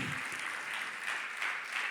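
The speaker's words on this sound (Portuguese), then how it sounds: "Você pode dar uma salva de palmas a Jesus" A church congregation claps together in soft, distant applause, a steady wash of hands that swells slightly in places.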